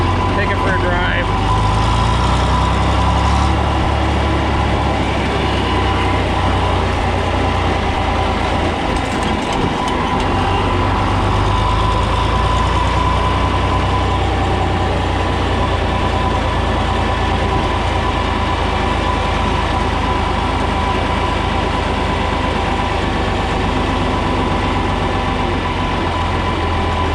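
A John Deere 4010 tractor engine drones out on the road, a loud, steady low rumble that holds the same level throughout, close by and with no talk.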